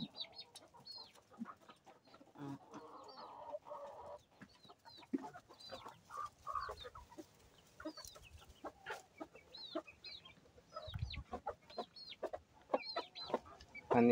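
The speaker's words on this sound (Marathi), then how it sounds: "हे बघा, सगळे गावरान कोंबडी आहेत" Free-range village chickens cluck and call in a farmyard, a run of short, clipped near calls scattered over a quiet background, with a few lower soft murmurs between them.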